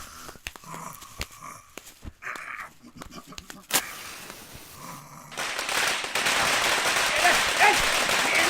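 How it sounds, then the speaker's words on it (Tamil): Firecrackers set off at a crowded street gathering in a Tamil comedy scene, sharp pops first scattered among voices and a dog, then a dense, loud crackling barrage that fills the last few seconds. "வீரமணி இங்க வையா பட்டாசை."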